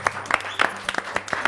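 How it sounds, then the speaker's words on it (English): A short round of applause for students, a crowd clapping in quick uneven bursts, close and fairly loud for a brief moment. "Let's give them a round of applause."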